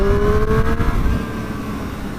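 A 2020 Triumph Street Triple RS motorcycle engine under light throttle, a steady close engine drone whose pitch eases down partway through, with no talk over it.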